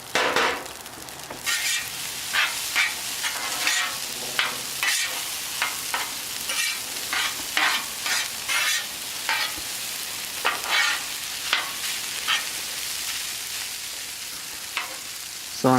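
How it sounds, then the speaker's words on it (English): Chicken fried rice sizzles in garlic butter on a teppanyaki griddle, a close, steady frying hiss broken by repeated scraping and stirring strokes of a spatula. "So I'm just going to let that fry for a minute."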